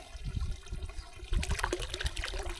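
Water trickling and splashing from a solar-pump garden water feature, a soft, close burble that grows busier and brighter partway through, with no voices.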